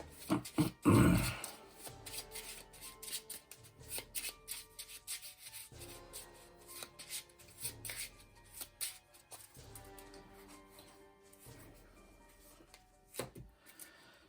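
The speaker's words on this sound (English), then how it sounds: "Draw this 1, shuffle up real quick." A deck of cards being riffled and shuffled, with a loud burst near the start followed by repeated softer shuffling and rubbing sounds in bursts.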